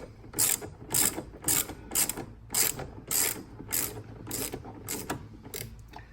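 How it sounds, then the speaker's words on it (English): A hand ratchet with a 5/16 socket loosens a bolt on the airbox during a Mopar cold air intake (Hellcat intake mod) install, giving about ten close, rhythmic bursts of clicking with no talk. "grab your ratchet, and we got a 5/16. Take this off, let's loosen this out"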